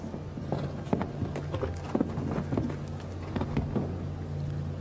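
Horse hooves thud on the arena footing during a show jumping jump-off at the Longines Global Champions Tour Grand Prix in Miami Beach, an irregular run of muffled, close beats over a low background hum.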